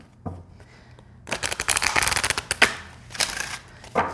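A tarot deck is side-shuffled with a rapid, crackling rustle lasting a couple of seconds, then a few softer flicks; nearby, no voices.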